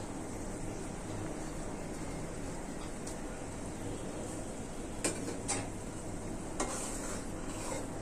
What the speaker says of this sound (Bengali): এখন আমি বুটের ডাল দিয়ে দিব